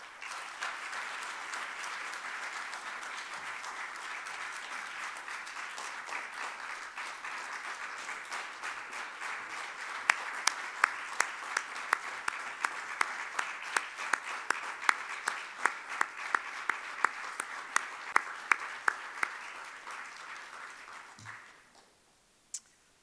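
Sustained audience applause for an honoree at a university research excellence ceremony, steady and full for about twenty seconds with sharper individual claps standing out in the middle, then tapering off near the end.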